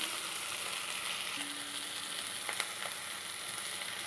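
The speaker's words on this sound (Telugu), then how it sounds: "ఇప్పుడు నేను దీనిలోకి చికెన్ యాడ్ చేసేసుకుంటున్నాను" Chicken frying with ginger garlic paste in a pan, a steady hissing sizzle throughout with a couple of faint stirring knocks, close and moderate.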